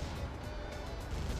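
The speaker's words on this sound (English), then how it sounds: "Explosion!" An explosion in a construction vehicle video game comes through as a loud, steady, rumbling roar of heavy blast noise that sounds close and dense. It lasts throughout without a distinct onset, and no one talks.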